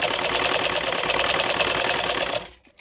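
Sewing machine stitching along the edges of a folded fabric strip for a kurta side-slit patti, a steady rapid mechanical chatter running loud and continuous for over two seconds before stopping abruptly.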